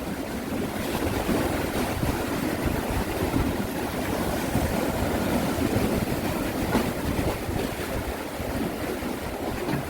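Sea waves crash and splash against a harbor wall in a steady, loud wash of surf, with the roar rising and falling but never stopping.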